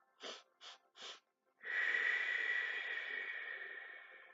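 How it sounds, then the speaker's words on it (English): Deep guided breathing: three short, sharp inhales in quick succession, a brief pause, then one long, strong exhale that slowly fades, all close and breathy with no talking. "We're going to inhale 3 times and exhale once."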